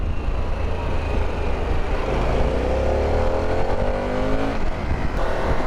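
Harley-Davidson Pan America 1250 V-twin motorcycle engine pulling hard under a rider, a loud continuous droning roar with rising pitch as it accelerates, wind rush mixed in, close and steady throughout.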